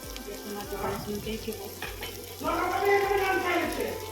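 Ginger, garlic and green chilli sizzle in hot oil while being stirred, a close crackling fry that swells louder partway through, with light scraping of the spatula and no talking.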